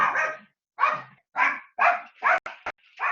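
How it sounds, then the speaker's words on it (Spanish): A dog barks six times in separate, evenly spaced yelps, loud and close against a quiet indoor background. "es el perro que grita un montón"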